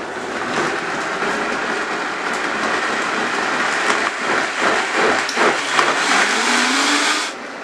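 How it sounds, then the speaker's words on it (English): A Vitamix blender purees hot green chile chicken broth, a loud, steady whirring roar that surges and churns for several seconds before cutting off abruptly near the end. "This is a wonderful blender, and I'm just blending it until it's a smooth puree."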